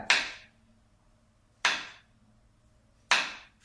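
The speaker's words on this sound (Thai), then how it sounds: "หั่นผักเลยครับ ก็หั่น แครอทให้เน่นๆนะแล้วแต่ชอบนะครับ" Knife chopping carrots on a cutting board, three separate crisp chops spaced about a second and a half apart, close and clear with no talk.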